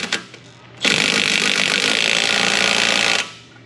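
A power tool buzzes loudly for about two and a half seconds, a steady harsh whir that starts and stops abruptly, torquing a bolt on a 2006 Mercedes CLS500, preceded by a few faint clicks.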